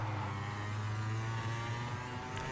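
A racing go-kart engine from the KartKraft driving game drones steadily close behind, a buzzing, tonal hum holding a fairly constant pitch with no talking over it.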